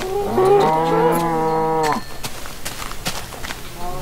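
A cow moos in the Minecraft video game, one long loud low moo lasting about two seconds, followed by quieter blocky game noises and soft clicks with no talking.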